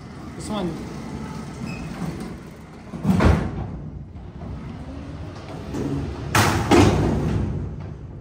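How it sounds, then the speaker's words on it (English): Doors of an Otis freight elevator in Ann Arbor, Michigan, sliding open and closed, with two broadband rumbling thuds of the heavy doors about three seconds apart, while people talk nearby throughout. "Now press door open. Now press door close. You can stop and change direction of the doors."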